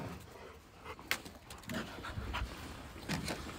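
A dog pants quietly and rapidly up close, with a few soft rustles and no talk.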